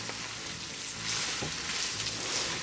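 Onions frying in a cooker for chili, giving a steady, close hiss of broadband sizzle with faint crackles throughout and no voices.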